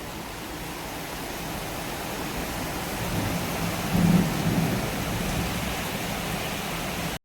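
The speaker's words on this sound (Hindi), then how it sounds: "अभी तो बारिश आ रही है" Steady heavy rain pours down, with a low roll of thunder rumbling up about midway through before easing back under the downpour.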